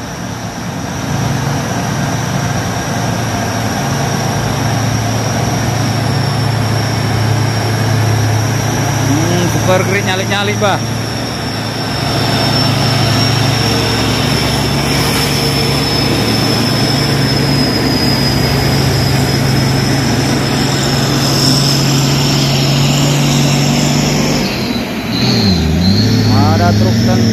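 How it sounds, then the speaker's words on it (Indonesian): Heavy trucks grind up a steep hill road, including a Pertamina tanker, with a steady low engine drone close by and someone talking over it throughout. "ramai truk yang melakukan pendakian."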